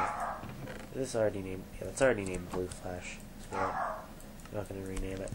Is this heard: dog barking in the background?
yes